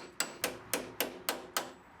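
A makeshift breaker is hammered into thin body metal on the back of a Mustang GT parts car, giving six sharp, evenly spaced metallic strikes that ring briefly, close and alone.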